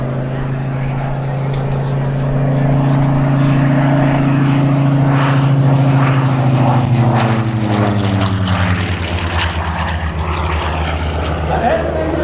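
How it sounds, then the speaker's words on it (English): A Helldiver propeller airplane drones loudly overhead at the Geneseo Air Show, its engine pitch sliding downward as it passes, with crowd noise in the background. "Let's see what the Helldiver will do for us."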